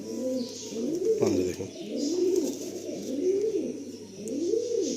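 Repeated pigeon coos from a tournament-quality Kaldam-type pigeon, four or five rolling, low phrases at a steady rhythm, recorded close. Someone speaks briefly partway through.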